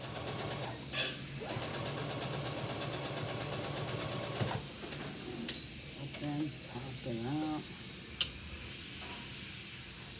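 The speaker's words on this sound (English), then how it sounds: "now I am going to hem the dress and we are going to be finished" A sewing machine hems a dress, running with a steady, quiet mechanical whir and hiss that continues throughout, with a few brief clicks.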